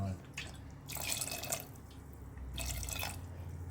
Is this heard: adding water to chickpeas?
yes